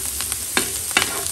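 Shrimp frying in garlic butter in a pan gives a steady, close sizzle, broken by two or three brief, sharper bursts as the pieces are stirred or turned.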